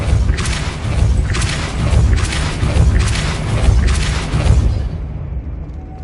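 Depulso force spell cast in the video game Hogwarts Legacy, a loud series of five rhythmic booming thumps about a second apart over a dense rumbling bed, ending abruptly.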